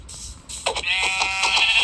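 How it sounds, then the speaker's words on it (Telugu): Minecraft goat bleating in-game, one short bleat followed by a longer wavering bleat, clear and close with no talk. "ఇంకో మేక దొరికిందో, ఇంకో మేక దొరికిందో"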